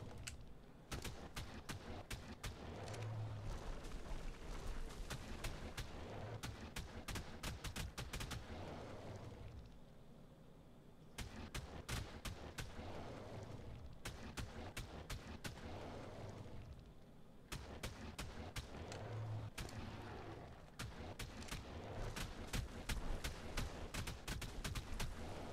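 An automatic turret firing in the game Small Tribes, long bursts of rapid gunfire with steady, machine-gun-like cracks that pause briefly and start again, heard from moderately close.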